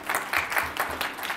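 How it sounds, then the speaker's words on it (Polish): Brief, moderately quiet applause from an audience at a panel event on corporate employee volunteering, a soft, even patter of many hands clapping. "Wielkie brawa, zapraszamy do nas."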